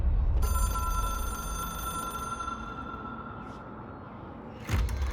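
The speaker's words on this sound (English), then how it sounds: "It is a phone. It's an object of power." A telephone rings steadily in the video game Control, a bright, sustained electronic tone over a low rumble that cuts off shortly before a brief thump near the end.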